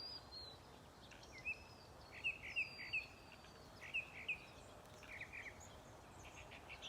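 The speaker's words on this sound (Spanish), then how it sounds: "Vean cómo se están bañando esos pájaros." Small birds chirp faintly in a garden where they are bathing, with short, high tweets scattered over a soft, steady background.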